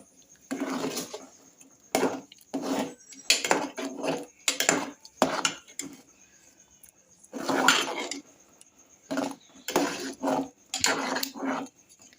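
Jaggery being stirred into payasam in a pot, with bursts of spoon scraping and clinking against metal in irregular strokes separated by short pauses, close and moderately quiet.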